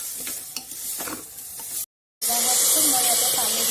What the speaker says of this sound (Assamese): এইখিনি মই 2 মিনিটমান ভাজি ল'ম।